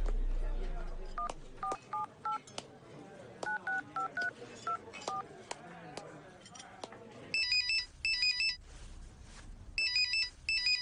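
A phone being dialed in a Hindi-dubbed South Indian action film, a run of short beeping keypad tones in quick groups, followed by higher electronic ringing bursts, all fairly quiet.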